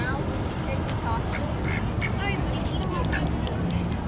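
Ducks quack repeatedly on a noisy city street, the calls cutting through steady traffic and crowd babble, with people talking nearby.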